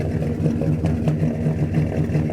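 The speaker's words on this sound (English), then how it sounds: "So we've got a pretty heavy misfire." Dodge Monaco V8 idling with a heavy misfire, a close, loud, lumpy rumble with an uneven, stumbling pulse running throughout, no talking.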